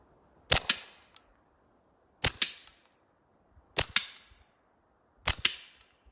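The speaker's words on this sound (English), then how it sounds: "So that was 5 rounds into the tire. It's hitting that steel rim, and that's all you hear." Shots from a suppressed Smith & Wesson Model 41 pistol strike the steel rim of a tire: four sharp, fairly quiet cracks, evenly spaced about a second and a half apart, each with a brief ringing tail and no talking.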